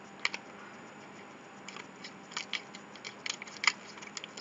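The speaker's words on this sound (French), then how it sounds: "je vais essayer les ciseaux" Scissors snip open Panini Asterix sticker packets from Carrefour, a string of crisp, close cuts and paper rustles, sparse at first and then quicker, with no talking.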